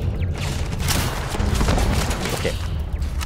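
Gunfire in Starfield shooting apart an enemy turret. It is a dense, loud barrage of shots and blasts that runs without a break, with a voice talking faintly underneath.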